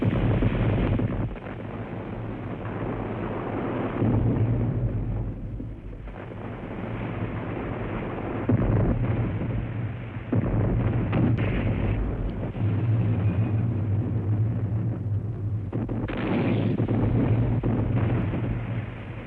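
Heavy naval artillery shells fire and explode in a sustained, rumbling barrage at sea, a dense low roar with repeated booming swells, muffled and distant-sounding, without voices.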